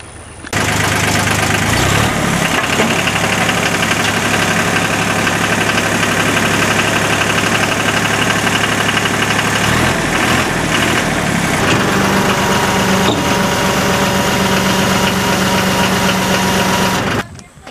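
A tractor engine idles steadily and loudly close by, a continuous rumbling drone that runs unbroken for about seventeen seconds with a slight shift in tone partway through.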